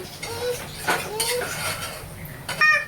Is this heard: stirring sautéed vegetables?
yes